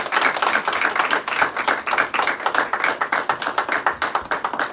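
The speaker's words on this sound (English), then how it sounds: "Let's give them a big round of applause." A crowd claps for volunteers at a volunteer appreciation potluck, brisk overlapping clapping that stays loud and close and settles into a more rhythmic pattern toward the end.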